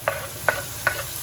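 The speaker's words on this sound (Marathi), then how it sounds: "मस्त टोमॅटो पण परतून घ्यायचे छान" Tomatoes sautéing in a pan for a prawn curry, with three light, evenly spaced stirring scrapes over a steady soft sizzle close by.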